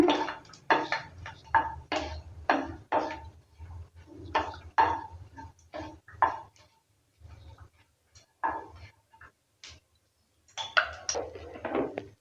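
Dried red chillies are stirred in hot mustard oil, with a metal spatula clinking and scraping against the pan in quick irregular bursts separated by short pauses, close and clear.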